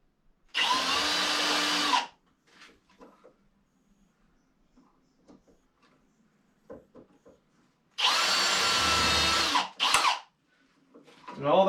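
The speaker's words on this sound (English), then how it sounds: "I like drilling the exact hole." A power drill bores a hole in a bathroom vanity in two loud bursts of about a second and a half each, separated by quiet handling noises, with faint talking in the gaps.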